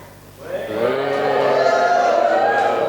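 An audience at a university debate on the 2016 US presidential election cheers, the noise swelling quickly and then holding at a loud, sustained level.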